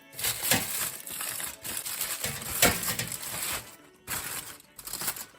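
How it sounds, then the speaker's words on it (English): Foil is peeled away from an oven-roasted doctor fish with crinkling, crackling bursts in uneven bursts and a short pause before more rustling near the end, heard close and without speech. "I'm now going to unwrap the other fish, which I have here"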